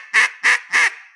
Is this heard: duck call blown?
yes